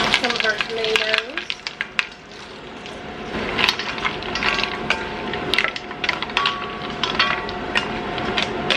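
Frozen peppers and tomatoes sizzle loudly in a hot pan with a steady crackling hiss, broken by scraping and clatter as the pan is stirred.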